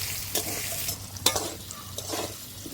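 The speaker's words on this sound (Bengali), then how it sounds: "এবার লবণ আর হলুদ দিয়ে ভাজবো" Cut potatoes frying in a pan with salt and turmeric, a soft steady sizzle broken by a few scraping stirs of a spoon, close and quiet.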